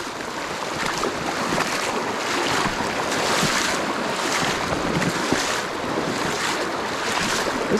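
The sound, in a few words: rushing river water while hiking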